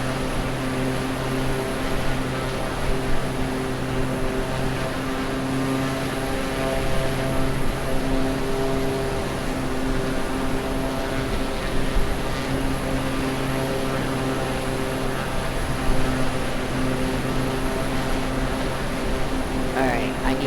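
In the Microsoft Flight Simulator 2020 video game, a propeller airplane engine throttled all the way back drones in a steady, even hum with a constant tone through the whole stretch. A voice can be heard faintly.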